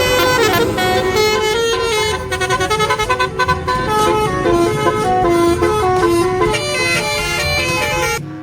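Telolet horn of a yellow bus in Indonesia, a loud multi-tone melodic horn playing rapid musical notes in a continuous sequence with a stuttering burst in the middle, close and dominant.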